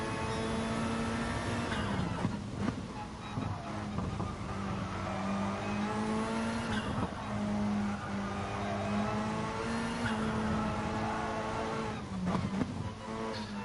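A Gr.3 race car in GT Sport drones through a practice lap. The engine is loud and continuous, and its pitch rises and dips as the throttle is lifted and reapplied.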